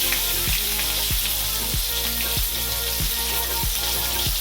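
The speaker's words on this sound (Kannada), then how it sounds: "ಸ್ವಲ್ಪ ಫ್ರೈ ಮಾಡ್ಕೊಳ್ಳಿ" Curry leaves and green chillies fry in hot oil with cumin for tomato tokku, a loud continuous sizzle crossed by regular stirring scrapes about every half second, close up with no speech.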